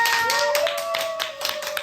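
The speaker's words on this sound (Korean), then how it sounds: "이렇게 새소식반에 온 우리 친구들을 박수로 환영합니다." Children at a church kids' club clap in welcome, a quick run of rhythmic, close handclaps over a steady tonal hum, lasting under two seconds.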